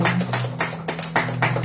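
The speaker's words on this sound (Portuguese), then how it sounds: "Uma salva de palmas para o elegante Pedro" A few people clap for a boy named Pedro Manuel during a children's live tribute, giving a handful of distinct, evenly spaced claps close to the microphone over a low steady hum.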